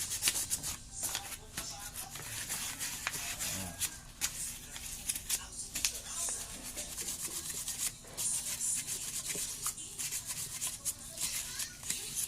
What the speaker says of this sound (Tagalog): So, gagamitan nyo guys ng liha. So, dapat lihain nyo yung pinakadulo.